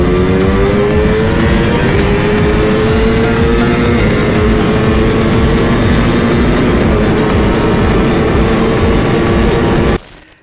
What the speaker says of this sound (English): we lined up with him and we actually cracked the throttles of our bikes open